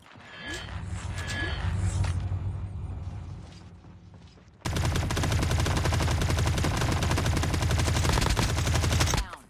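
Call of Duty battle gunfire: dense bursts of shots, rising sharply midway into continuous loud rapid automatic fire that runs to the end.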